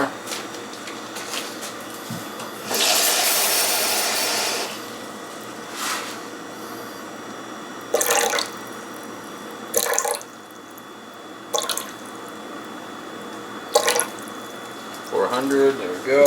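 Water poured into a bowl of flour for high-hydration pizza dough, a short steady splashing pour followed by a few brief drips and clinks in a quiet kitchen, with faint talking.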